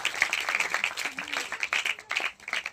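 A church congregation applauding, dense rapid hand-clapping from many people at a steady level, close and continuous without pause.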